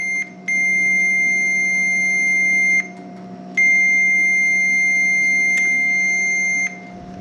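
A multimeter gives two sustained, steady continuity beeps, the first about two seconds and the second about three, with a short gap between. They sound over a constant electrical hum while the wiring and switch of a Delta Shopmaster GR450 8-inch bench grinder are tested.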